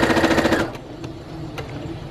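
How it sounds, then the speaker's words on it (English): Brother PE800 machine stitching around the edge of a baby blanket: a rapid, rhythmic burst of needle stitching for about half a second, then it stops and soft handling clicks follow. "I still need to do a little bit more stitching so it touches the edge."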